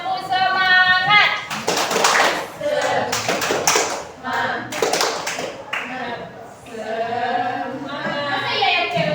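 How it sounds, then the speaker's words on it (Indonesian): A group claps in quick rhythmic bursts while voices chant and call out together between and over the claps. "Oke, tepuk semangat"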